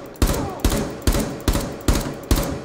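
Six evenly spaced gunshots in Rainbow Six Siege ring out in a steady rhythm, each a sharp loud crack with a brief tail, no voices.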